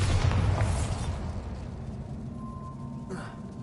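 Bombarda explosion spell cast in a Hogwarts video game, a loud broad burst at the start that rumbles and fades over a few seconds.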